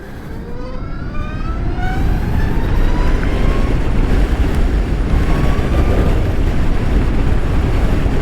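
A Zero electric motorcycle in sport mode accelerates at quarter throttle, giving a steady rising whine over heavy wind and road rush that stays loud and continuous throughout.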